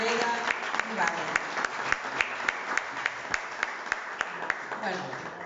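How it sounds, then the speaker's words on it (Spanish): An audience at a book launch applauds a speaker, steady moderate clapping with distinct individual claps ringing out at a regular pace over a murmuring crowd. "Un fuerte aplauso para María Rivera Ibarra"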